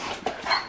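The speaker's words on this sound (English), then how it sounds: "They're fucking beasts, these dogs." A large dog gives a brief whimpering vocalization up close, a short whine and a sharp yelp-like sound, with no talking.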